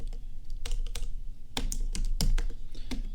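Rapid, uneven keystrokes clatter on a computer keyboard while code is typed, with sharp clicks in quick bursts and brief pauses over a steady low background hum.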